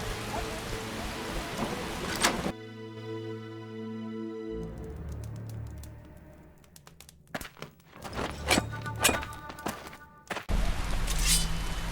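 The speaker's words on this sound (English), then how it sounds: "This rain." Rain falling in The Witcher video game, a steady hiss of downpour with crackling spatter, interrupted by tonal game sounds and scattered sharp hits in the middle before the full rain returns loud at the end.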